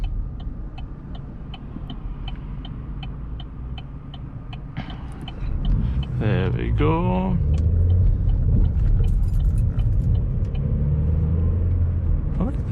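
A 2013 Vauxhall Astra 1.4 SRi engine hums steadily from inside the cabin as it accelerates on a motorway, with road rumble building and a brief spoken phrase over it.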